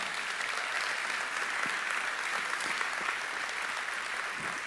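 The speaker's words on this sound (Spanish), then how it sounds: "¿Alguien le puede dar un aplauso al Señor por su bondad?" A church congregation claps together in steady, dense applause that holds at an even level throughout, filling the room without any voices breaking through.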